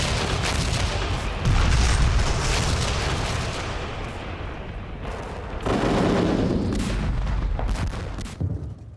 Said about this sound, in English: The evacuation was interrupted by a Soviet artillery bombardment.